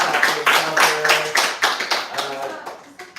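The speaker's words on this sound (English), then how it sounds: "Clap for yourselves." A small group in a songwriting workshop claps for themselves, with loud, close, brisk hand claps in quick succession and a few voices mixed in.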